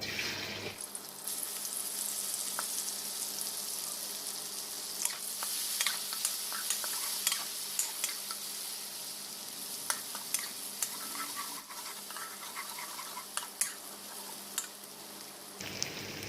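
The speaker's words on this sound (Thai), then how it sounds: "เรานำพริกกับกระเทียมที่โขลกเข้ากันครับ นี่ฮะ ลงไปเลยครับ" Pounded chilli and garlic hit a hot wok and fry with a continuous bright sizzle, punctuated by scattered stirring clicks and scrapes, steady and close throughout, with no talking.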